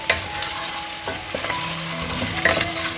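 Tomato paste and chunks of meat being stirred and fried in a hot pan for saffron chelo gousht, with close, continuous sizzling and scraping spoon strokes, no talking.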